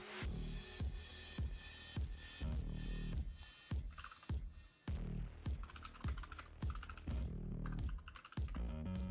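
Continuous typing on a mechanical keyboard with Zeal switches, a close, busy stream of clacky keystrokes with brief pauses and a faint background hum; no talking.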